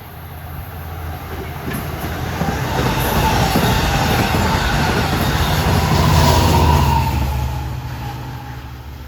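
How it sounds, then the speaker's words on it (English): A Long Island Rail Road dual-mode through train from Port Jefferson approaches New Hyde Park station during the morning rush, its rumble building from moderate to loud and steady, with wheel noise and a faint high squeal, then easing slightly. "approaching at 8:50 is the last of the through trains to the city from Port Jefferson"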